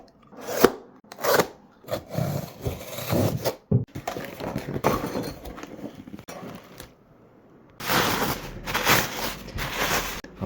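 Plastic packaging being torn and rustled open around a Zebedee stainless steel hanging rail, irregular crinkling and scraping bursts, close and fairly loud, with brief pauses between handling sounds.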